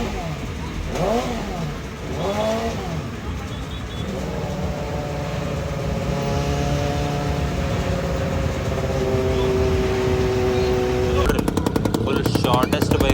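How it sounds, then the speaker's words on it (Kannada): A motorcycle engine on a dyno at a bike week festival, a loud sustained drone with rising and falling tones that ends in rapid staccato popping, set against a noisy crowd with voices. "Dino testing ಮಾಡತ್ತಾರೆ."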